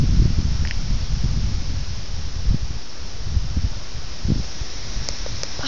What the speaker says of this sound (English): It's wicked windy and kind of scary.